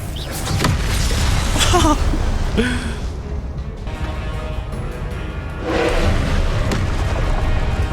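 A Confringo spell explosion in Hogwarts Legacy sounds as a loud, dense booming blast with crackling debris that fades, then a second heavy rumble swells near the end amid other game effects.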